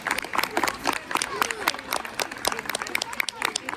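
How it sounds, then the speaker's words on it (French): Audience applause for a pair of magician twins at a stage show, a dense crackle of clapping that runs the whole time, with voices and chatter mixed in. "on peut les applaudir bientôt tous les deux"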